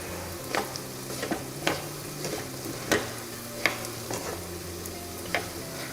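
Leaves frying in ghee in a pan give a steady soft crackle, punctuated by several sharp clicks and scrapes of stirring at irregular intervals, with no talking.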